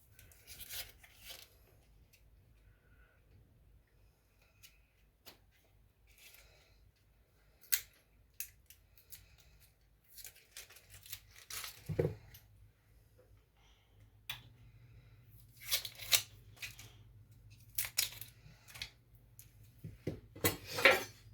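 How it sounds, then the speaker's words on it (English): Knife cutting into a peeled onion on a board, the root end left intact, heard as quiet scattered clicks and taps of the blade, close and faint, with a soft low hum underneath and no talking. "now I'm going to cut into the onion, but not all the way through"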